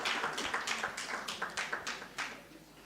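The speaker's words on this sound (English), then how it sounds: "Another round of applause for Mrs. Oyeyemi Adeyemi." A small seminar audience gives a brief round of applause, scattered individual claps in an uneven rhythm, moderately distant and fairly soft, with no talking.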